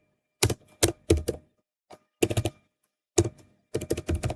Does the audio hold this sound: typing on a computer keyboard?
yes